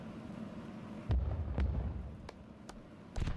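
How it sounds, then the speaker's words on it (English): Aerial fireworks go off at a fireworks class, with several sharp booms and pops spaced irregularly over a steady hiss of burning, close and loud. "And this is primarily the aerial fireworks."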